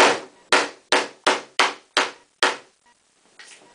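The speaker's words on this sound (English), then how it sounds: "I think the right tool in this case is the hammer." Hammer blows from a multi-tool, seven sharp evenly spaced strikes about half a second apart, loud and close, each ringing briefly, followed by softer faint knocks and scraping at the end.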